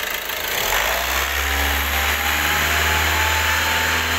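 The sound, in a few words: car engine revving while pressure is tested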